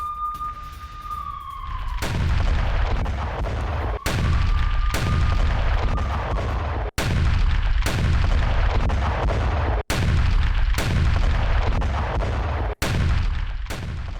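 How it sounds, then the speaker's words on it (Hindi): Israeli bombing strikes on Beirut: a run of heavy, loud blasts and cracks at irregular intervals over a dense roar, with a rising, siren-like wail at the very start. "इजरायली बमबारी से दहला बेरूत।"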